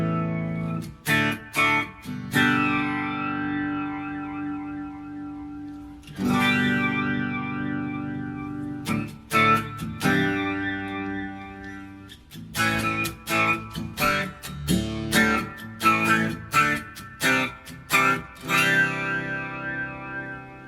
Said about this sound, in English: Let's turn on and see what we get out of this flanger here.